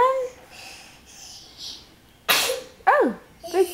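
A small child sneezes once, a sharp close burst, with soft babbling and vocal sounds from the child before and after.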